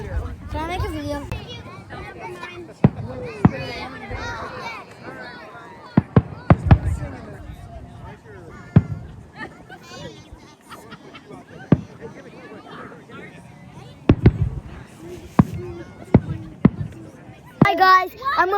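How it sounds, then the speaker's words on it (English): Fireworks burst in sharp, scattered cracks and bangs at a party outdoors, some loud and close, amid children chattering and a babble of voices. "it's fireworks right now, so I'm gonna show you the fireworks"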